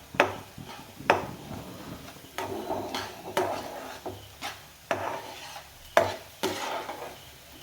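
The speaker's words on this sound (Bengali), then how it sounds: "দিয়ে ভালো করে নেড়ে চেড়ে নেব" A spoon stirs motichur laddu mixture in a pan, making repeated rubbing and scraping strokes at a fairly even pace. The strokes are close and moderately loud, and no one speaks.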